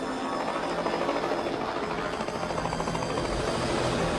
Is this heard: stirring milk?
no